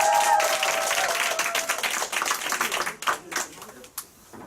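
Clapping from a seated audience at a business group meeting, starting full and then thinning into scattered, uneven claps that die away over a few seconds, with some voices in the background.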